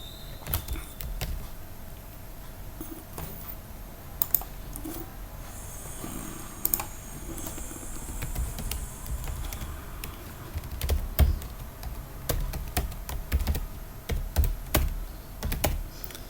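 Someone types steadily on a computer keyboard while working in a terminal, writing and running Python code for a PostgreSQL connection; soft, irregular key clicks with occasional louder taps continue throughout at close range, with no talking.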